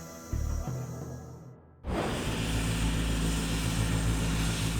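Air ambulance helicopter preparing for takeoff, its engine and rotor building into a loud, steady pulsing drone after a brief lower mechanical hum and a sudden cut.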